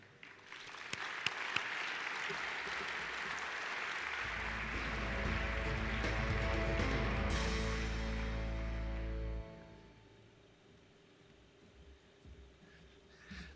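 A conference hall audience at a keynote address applauds to welcome the speaker, dense sustained clapping that swells for several seconds before tapering into lighter, thinning claps.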